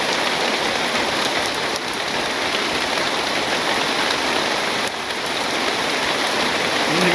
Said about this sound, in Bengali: ট্রেনের মধ্যে বৃষ্টি পড়ে, মাঝখানে পড়ে না।